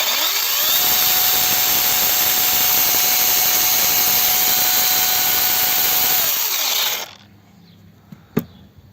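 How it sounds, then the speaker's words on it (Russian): A Yuansen YS-12GSJ cordless chainsaw whirs at a steady high pitch for about six seconds, then winds down and cuts off, followed by quiet and a single click. "Врубаем пилку."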